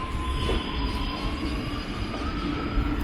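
The Lucknow Barauni Express train rolls steadily out of Lucknow Junction with a continuous rumble and a thin, sustained wheel squeal running through the whole stretch, fairly close and loud.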